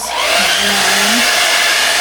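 Hair dryer blowing steadily on a painting, a continuous close broadband whoosh with a faint motor hum, loud and unbroken throughout while a voice counts under it.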